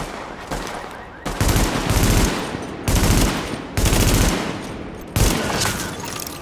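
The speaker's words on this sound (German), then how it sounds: "Beschuss durch leichte Waffen. Unter Beschuss." Small-arms gunfire in The Division video game, several loud sustained bursts of automatic fire separated by short gaps, close and harsh.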